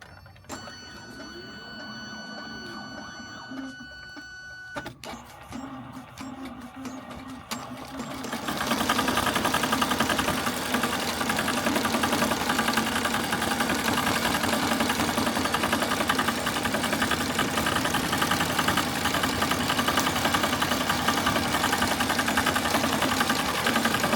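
A Tajima embroidery machine stitches lettering onto a robe, starting with a few quiet clicks before settling into a loud, fast, steady mechanical rattle that runs on unbroken.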